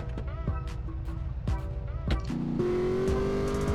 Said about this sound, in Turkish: Araba hiç zorlamadan şu an gidiyor.